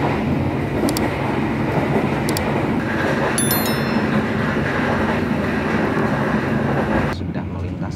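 The Tegal Bahari passenger train in Indonesia rumbles along the rails past Haurgeulis station with a steady roar, brief high squeals and clicks, and the noise drops slightly near the end.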